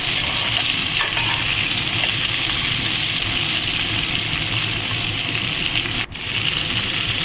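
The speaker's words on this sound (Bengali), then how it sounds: "সব সবজিগুলোকে দিয়ে এবার সবজিগুলো আমি সুন্দর করে ভেজে নেব" Mixed vegetables for a chorchori with hilsa fish head frying loudly in a pan, a dense continuous sizzle close by that briefly dips once near the end, with no talking.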